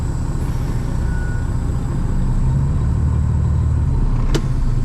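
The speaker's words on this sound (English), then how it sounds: "Release the brake. We're gonna check this, give it a tug test." A loaded semi truck idles with a steady low diesel rumble while pulling against its loaded trailer in a tug test. The noise is close and constant, with a brief squeak near the end.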